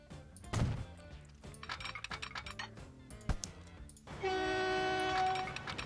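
A train runs in the Transport Fever video game, its horn sounding as a long sustained tone near the end, over game music and clinking effects.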